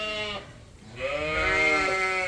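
Sheep bleating from indoor pens on a farm while rain pours outside; two drawn-out, wavering bleats close by, the second longer and louder after a brief pause.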